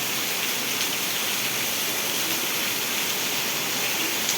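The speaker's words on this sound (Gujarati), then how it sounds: "કેવો મસ્ત વરસાદ પડી રહ્યો છે ભાઈ" Heavy monsoon rain pours down in a dense, even hiss over a village in Ranpur, Botad district, Gujarat, constant and close, with no voices.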